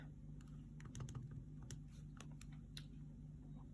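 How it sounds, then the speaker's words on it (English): Keys pressed on a graphing calculator, a series of quick, light clicks at an uneven pace, fairly close, over a steady low background hum. "I'm going to type in 3 minus 3 sine theta"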